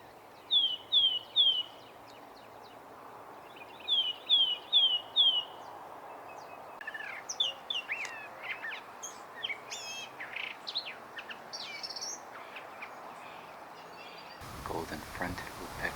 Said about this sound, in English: Golden fronted woodpecker, I think.